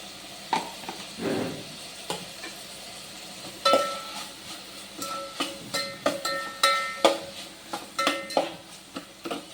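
Onion and tomato with turmeric being sautéed in a pan, a spoon scraping and stirring in irregular clinks and scrapes over a faint sizzle, close and moderately loud with no talking.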